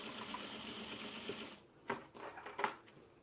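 A sewing machine stitches the sides of an oversized denim tote with a 1/2 inch seam, a steady close whirring run that stops, followed by a few sharp mechanical clicks and clacks.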